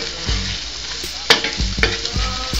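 Beef and egg being stirred in a hot pan, with a steady sizzle and repeated scraping strokes of a utensil against the pan, about five or six stirs close up, with no voices.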